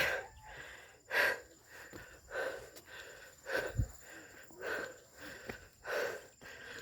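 A person panting out of breath while walking on an unpaved dirt path, with repeated close, rhythmic heavy breaths roughly once a second and faint background noise.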